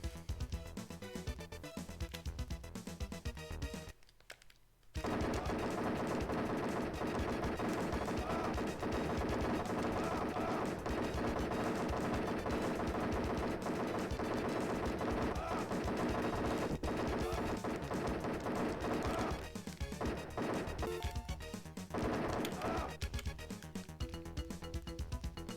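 Gunfire aimed at oil drums in the SNES game The Untouchables, with dense, continuous shooting and crashing under loud game music after a brief gap. The sound stays full and busy nearly throughout.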